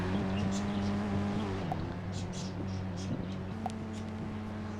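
A white Toyota Supra MK4 drives in a video game, with a steady engine hum and shifting engine tones. A few brief tire squeals and skid-like chirps cut through at moderate loudness.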